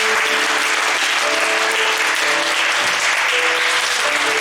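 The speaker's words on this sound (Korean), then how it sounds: "박수 한번 해줘." A youth group audience at a church winter retreat bursts into steady, dense applause that fills the space at full strength and keeps going without a break, with scattered faint voices mixed into the clapping.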